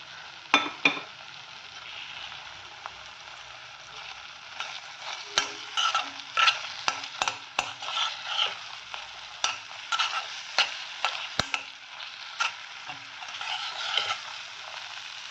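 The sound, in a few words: papaya halwa with seeds stirred in pan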